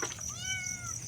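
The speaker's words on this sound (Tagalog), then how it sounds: "ito pong mga pusa ko" A cat gives one clear, rising-then-falling meow close by, short and fairly loud, with faint background noise and no talk.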